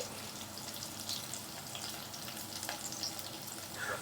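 Chopped onions, added after green chillies, stirred as they fry in a pan for a sardine fish dish, giving a steady soft sizzle with light scraping throughout, no voices.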